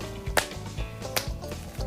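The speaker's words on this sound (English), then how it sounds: "We got to clap. We got to clap." A few sharp, loud impact sounds spaced unevenly, with a low rumbling background between them, like claps or slaps close by.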